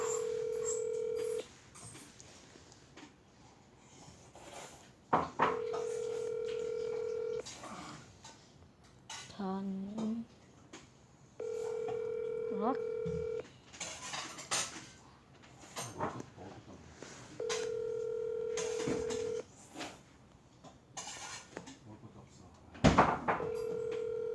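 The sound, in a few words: telephone dialing tones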